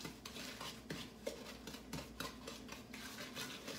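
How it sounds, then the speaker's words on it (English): A large wooden spoon stirs oatmeal raisin pecan cookie dough in a bowl, making soft repeated scraping and thudding strokes at a steady pace, close and fairly quiet. "he's just stirring it in until it's basically smooth"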